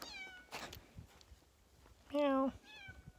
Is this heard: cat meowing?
yes